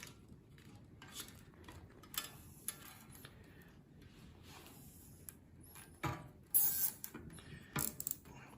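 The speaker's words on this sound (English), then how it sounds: "I'm just going to secure it with some cable ties, just to keep it" Plastic cable ties ratcheted tight to secure a homemade four-stage drinking-water filter: faint, quick clicking and zipping close by, building to a few louder pulls near the end, with no speech.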